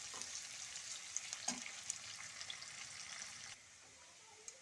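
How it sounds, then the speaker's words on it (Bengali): Chopped onions fried and stirred until browned in a pan: a soft, steady sizzle with a few light spatula taps, which drops quieter toward the end. "পেঁয়াজ কুচিটা একটু নেড়ে লাল করে নেব"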